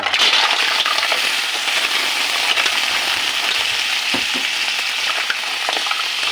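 Mussels tipped into a pot with ginger for tinola, a busy sizzling hiss with clattering shells and a few knocks against the pot, heard close with no talking.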